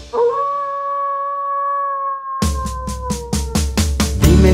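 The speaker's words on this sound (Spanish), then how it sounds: "Dime si tú sabes cómo hace el lobo, vamos a escucharlo tú y yo." A single long wolf howl rises and holds steady for a couple of seconds, then gives way to loud, rhythmic bursts of noisy thumping.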